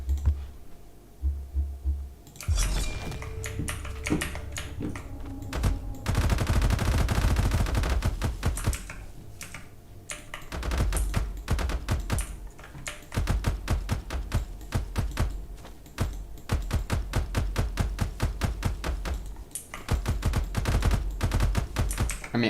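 Video game gunfire in bursts, rapid repeated shots like automatic fire recurring across the stretch, loud and close, mixed with low hum and no speech.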